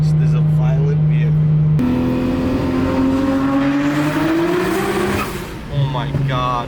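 A twin-turbo Nissan GT-R accelerating hard, a loud rising engine roar that climbs steadily through the gears, heard from inside the car with a voice talking over it.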